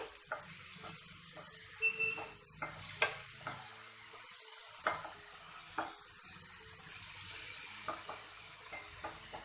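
Eggs frying together with onions in a pan, a faint low sizzle broken by scattered soft scrapes and clinks of a spatula stirring them.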